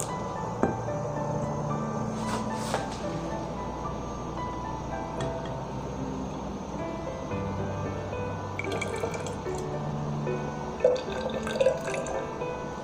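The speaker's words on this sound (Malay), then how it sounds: "kita sukat 50 ml air menggunakan silinder penyukat" Water trickling and dripping into a measuring cylinder for a school thermochemistry experiment, 50 ml poured in a steady light stream with a few sharper drips near the end, moderately close in a quiet room.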